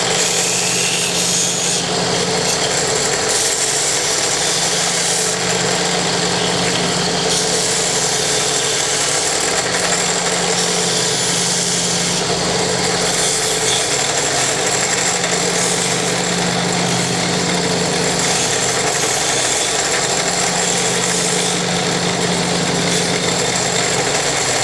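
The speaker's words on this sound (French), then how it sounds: "j'ai une ponceuse à bande" A belt sander runs continuously against a wooden board, a loud, steady abrasive roar with rhythmic swells as the piece is pushed back and forth, no voices present.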